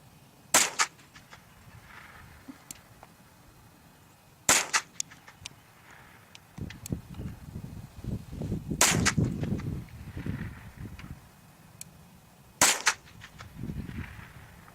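Four sharp, distant .22 LR rifle cracks hitting a target, spaced several seconds apart over outdoor background, with faint low voices murmuring between shots.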